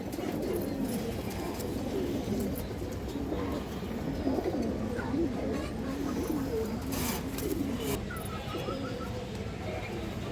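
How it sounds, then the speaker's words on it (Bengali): Old-line domestic pigeons, including female birds, coo in soft, low, repeated phrases throughout, steady and fairly close over a busy background hum. "এই দেখেন মাদির চোখটা দেখেন, খুব সুন্দর, একবারে পুরনো লাইনের কবুতর"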